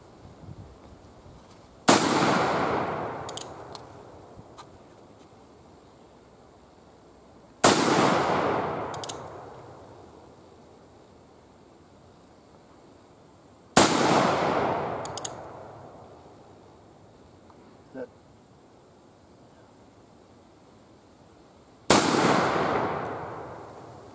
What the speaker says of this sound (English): So this is the Pietta 1858 Remington. We're shooting the Lee Precision conical bullets.